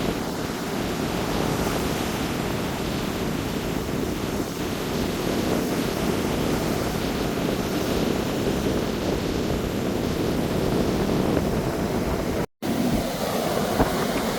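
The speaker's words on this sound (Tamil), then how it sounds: "பார்த்தீங்களா கடல் வந்து எப்படி அடிச்சது அலை வருதுண்டு" Sea waves surge and break continuously on the shore at Mullaitivu, a loud, broad roar mixed with buffeting wind on the microphone, with one brief dropout near the end.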